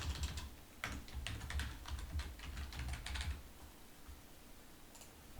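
Quiet bursts of rapid key clicks on a computer keyboard as a name is typed, clustered in quick runs and then trailing off into near silence.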